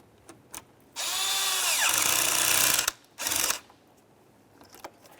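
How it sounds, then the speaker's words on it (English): A power tool tightens a hose clamp at the throttle body of a Ford Explorer Sport Trac, whirring close and loud for about two seconds as its pitch rises, then a short second burst, with faint clicks around. "Let's tighten this clamp."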